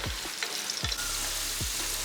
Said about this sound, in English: Fry the potatoes until they become golden brown in color.